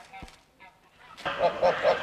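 Farm geese tended on a goose farm give several loud, close honks in quick succession, with a quieter stretch before the honking starts.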